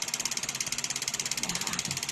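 A small RGB-lit cooling fan running close up, giving a steady rapid ticking whir with a bright hissy edge and an even, unbroken rhythm.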